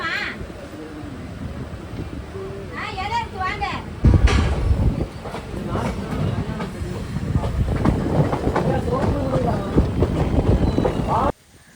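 A Trichy to Palakkad Town Express passenger train rumbles steadily along the Palakkad–Coimbatore line near Pukalur station, with rhythmic rattling of the carriages, a loud sudden jolt partway through, and people talking faintly in the background.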